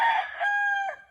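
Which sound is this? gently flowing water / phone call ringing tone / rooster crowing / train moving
rooster crowing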